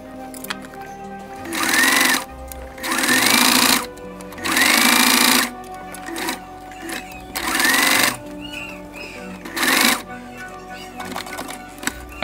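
A sewing machine stitches through layers of stretchy fabric for a newborn-size baby sleeper, with five or six loud, close bursts of rapid whirring separated by short pauses.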